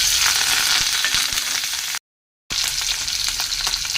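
Cumin, dried red chillies, curry leaves and garlic sizzle loudly in hot oil in a pan, a dense continuous crackling hiss, close up, broken by a brief half-second gap of silence.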